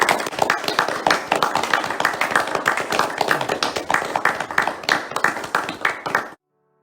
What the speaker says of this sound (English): give a hearty round of applause to our new benefactor